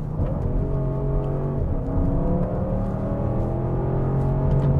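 An Audi RS6 C8 wagon takes a bend at high speed, its engine giving a loud, continuous drone with a brief dip and recovery in pitch, heard close and alone without talk.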